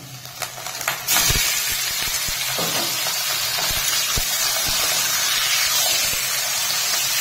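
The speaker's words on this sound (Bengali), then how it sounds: "চাম দিয়ে বেশ কিছুক্ষণ ভেজে নেবো, আর একটু নাড়াচাড়া করে।" Cleaned chicken skin drops into a pan of fried onions and a little oil, bursting into a loud, close, crackling sizzle that holds steady, broken by a few scrapes and knocks of stirring.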